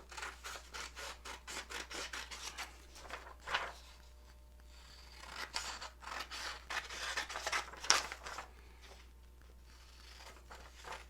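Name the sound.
cutting a paper graphic organizer with scissors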